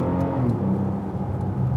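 A Bentley Continental GT Speed's 630 hp W12 engine hums and rises steadily under load in second gear, close and fairly loud, with no talking.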